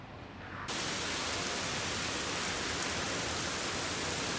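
Rain falls in a steady, dense hiss that swells abruptly after a quieter moment at the start, then holds even and loud with no voices.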